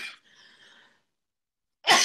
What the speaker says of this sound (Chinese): 突然开始有点咳嗽